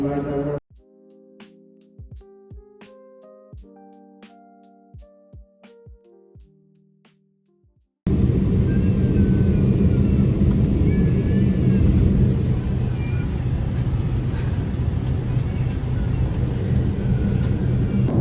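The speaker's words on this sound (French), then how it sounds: "Je suis pas sûre qu'on nous entende beaucoup avec le bruit de l'avion" Loud, steady cabin roar of an airplane in flight, a dense broadband rumble that fills the space continuously, preceded by a quieter stretch of soft plucked musical notes.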